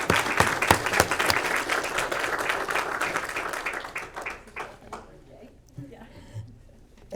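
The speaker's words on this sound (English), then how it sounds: "Let's give these guests a round of applause." Audience applause at a Daughters of the American Revolution monument dedication honoring Revolutionary War soldiers, a crowd clapping steadily for guests, loud at first and then thinning out and fading away over the last few seconds.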